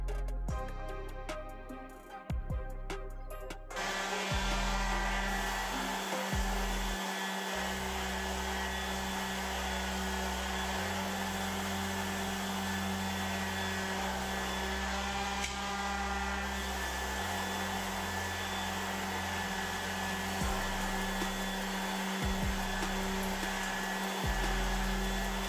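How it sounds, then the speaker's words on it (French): A power sander smooths the cut edges of laser-cut acrylic parts for a mini laser engraver, making a steady, high electric whine that runs continuously after a short start-up, with slight shifts in pitch as it presses on the workpiece. "je vais passer un petit coup de ponceuse pour enlever les petites traces de découpe"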